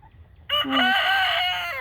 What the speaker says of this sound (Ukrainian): Кури вже тут, вже їм подобається.